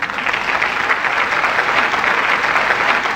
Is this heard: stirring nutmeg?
no